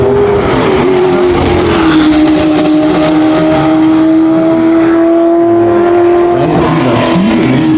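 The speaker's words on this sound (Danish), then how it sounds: "Det er jo en Formel 1-bil fra 60'erne uden aerodynamiske hjælpemidler, det man kan kalde en bar cigar, i det her tilfælde en Brabham BT24." A 1960s Brabham BT24 Formula 1 car without aerodynamic aids races past, its engine a loud, high sustained scream with a steady pitch that dips slightly and then climbs again near the end.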